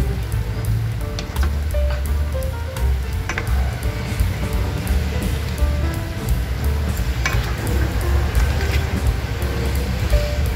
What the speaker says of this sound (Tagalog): Haluin natin yung ating nilulutong sinantol.